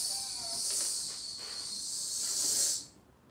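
A single sustained hissing exhale of breath, used while returning a katana to its sheath, lasts about three seconds at close range and stays fairly quiet before stopping abruptly.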